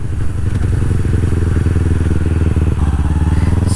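Light motorcycle being ridden, a steady close engine drone with rhythmic pulsing and some wind rumble, loud and continuous with no voices.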